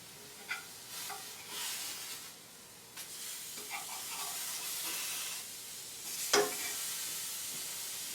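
Burgers seasoned with Neanderthal seasoning sizzle quietly in a saute pan, a soft steady frying hiss broken by occasional stirring and scraping clicks, with one sharper clank near the end.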